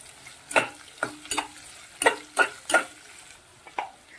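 Onions sautéing in a pan until reddish-brown, with sharp spatula scrapes and stirs arriving in irregular bursts over a quiet underlying sizzle, close up.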